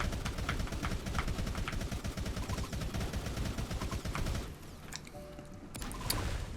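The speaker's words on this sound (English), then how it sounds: "And you have the machine gun as your secondary." A machine gun in City Smash 2, mounted as the tank's secondary weapon, fires a fast, continuous stream of loud close shots, then stops and leaves a few scattered impacts and a thin tone behind.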